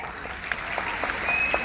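Audience applause at a talk, a short burst of many hands clapping steadily at moderate volume, with no voices over it.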